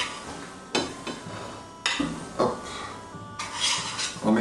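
A spoon scrapes and clinks against a plate while medieval green stew is served, several distinct metallic taps and scrapes close by, separated by brief pauses, with no voices.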